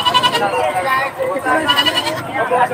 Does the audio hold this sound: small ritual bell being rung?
no